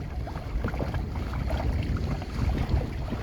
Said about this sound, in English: And here's the wind.